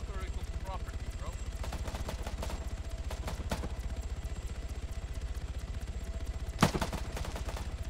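Rapid automatic gunfire rattles in a fast, steady stream of shots through a video game firefight, with a few sharper bursts and one louder crack near the end, fairly quiet overall.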